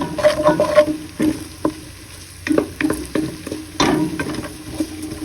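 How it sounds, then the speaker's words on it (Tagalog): Ginger sautés in a pan for chicken tinola with a crackling sizzle broken by repeated scraping stirs, close and uneven, with no voices. "Sutayin lang po natin hanggang mag-aroma po ang ating luya."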